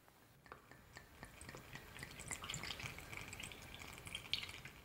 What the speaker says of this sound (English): Open up a bottle of white wine vinegar, get a funnel, and pour the vinegar in.